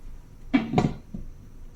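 A couple of quick hard knocks and clatter as a metal lid is set down on a pot of cooking string bean and pork adobo, close by and brief.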